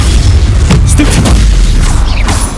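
Spell blast from a Stupefy cast in Hogwarts Legacy, a loud booming burst over dense, continuous combat noise with other magical effects layered in.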